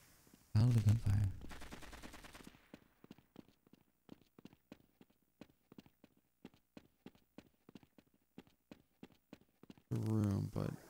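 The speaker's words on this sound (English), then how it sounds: "Hear gunfire." Gunfire in the video game Half-Life: a long run of sharp, evenly spaced shots cracking one after another, with loud talk just before and just after.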